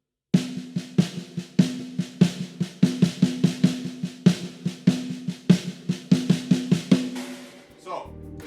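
Drum kit in a groove lesson playing a bar with sixteenth-note accents: steady close hi-hat or cymbal strokes with punchy kick and snare hits in an even driving rhythm, ending with a ringing decay.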